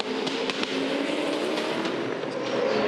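Supercars battling at the Hamilton 400 street race in 2012, with Tander passing Coulthard on the inside. A dense, continuous engine roar fills the clip, with brief sharper bursts and no speech.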